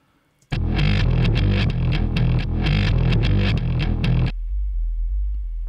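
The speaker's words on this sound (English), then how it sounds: "So if we listen to the two basses together," Two bass synth parts play together in an electronic music production, a heavy distorted bass line pulsing in a steady rhythm over a deep sub bass, loud and alone before stopping abruptly near the end.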